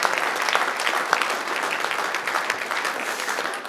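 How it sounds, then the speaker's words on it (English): An awards-ceremony audience at the HERO-ERA Awards 2024 gives a steady round of applause, dense clapping that holds at an even level for the whole stretch with no voices on top. "a round of applause for that"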